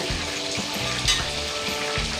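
Shrimp frying in hot oil for padang-style shrimp satay, a loud, continuous close sizzle with crackles and faint stirring, with no one talking.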